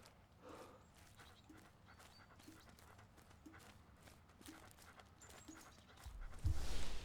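Dog in a survival roguelite video game panting quietly in quick rhythmic breaths, with soft clip-clop footsteps, faint game effects and a louder burst of noise at the end.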